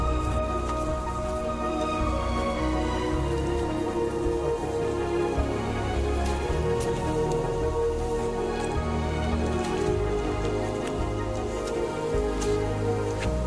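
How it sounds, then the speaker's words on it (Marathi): Rain falls steadily over village farm fields, a dense, even wash of drops with no pauses and no voices. "पाऊस"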